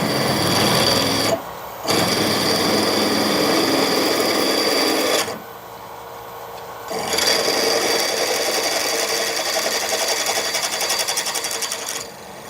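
Lathe drilling out a hole to half an inch in stainless steel for screw-cut lamp mounts, a loud steady mechanical whir with two brief pauses where the machine drops off, then running on continuously.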